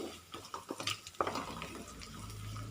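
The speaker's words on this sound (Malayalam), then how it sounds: "ചെറിയുള്ളി ഒന്ന് മൂത്ത് വരുന്നവരെ ഒന്ന് വാട്ടിയെടുക്കാം." Shallots are sautéed in a pan for a drumstick and lentil curry, giving quiet scraping stirs and soft clinks of a spoon against the pan over a faint sizzle, with no talking.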